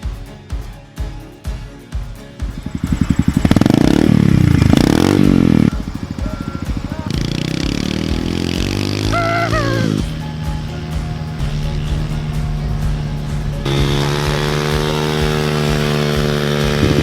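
A motorcycle engine revs hard and close, its pitch climbing and falling through gear changes, then settling into a steady loud drone.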